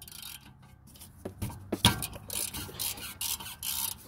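A wrench with a Torx 45 bit works loose the brake bolts on a BMW E46 325i, close-up metallic clicks and a sharp crack followed by rasping, ratcheting scrapes in short bursts.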